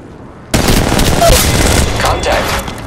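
After a brief quiet moment, gunfire from the video game Apex Legends Mobile breaks out, a loud, dense volley of rapid shots with booming impacts, close and sustained to the end.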